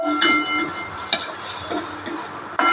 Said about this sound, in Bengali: নারকেলটা একটু হালকা করে নেড়ে নিই।